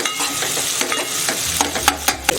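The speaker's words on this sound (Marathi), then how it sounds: "आता हे बघा कांदा आणि टोमॅटो व्यवस्थित भाजत आला आहे" Onion and tomato fry in a kadhai for masala pulao, a close, steady sizzle broken by several sharp spatula scrapes and knocks toward the end.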